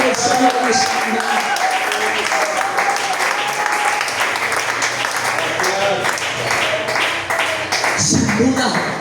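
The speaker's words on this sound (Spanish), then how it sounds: "aplauso a la palabra del Señor" Church congregation applauding during a Spanish-language sermon, a steady dense wash of clapping lasting throughout, loud and close, with voices calling out over it.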